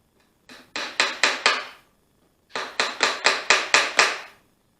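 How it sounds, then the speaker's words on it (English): Hammer driving nails through thin wood while building a bird house: a short run of four sharp strikes, a pause, then six more evenly spaced ringing blows, close and loud. "nailing this through this thin material"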